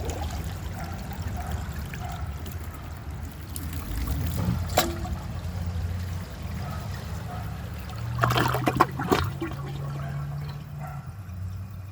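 A 2022 American Standard Homestead VorMax toilet flushes with a surge of rushing, gurgling water that swells midway and then settles into a steady refill trickle, heard close with no talking.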